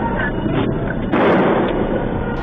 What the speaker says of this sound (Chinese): 远景立刻对空鸣枪